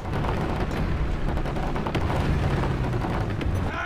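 Sustained rumbling barrage of artillery in a war video game, dense overlapping blasts and crackling debris forming a continuous loud roar with no gaps or speech.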